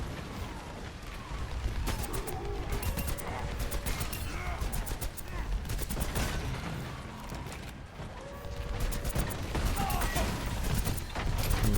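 Video game gunfire as a player shoots an enemy: bursts of rapid shots and booms come and go over roughly twelve seconds, mixed with other game effects, while people talk throughout.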